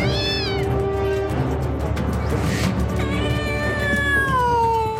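A domestic cat meows several times in a row, the drawn-out cries rising and falling in pitch, loud and close over a steady background hum, with no talking.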